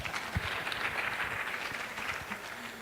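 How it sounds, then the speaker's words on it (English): An audience at a regional education and leadership congress applauds, a dense steady patter of many hands clapping at moderate loudness throughout. "Clap for me."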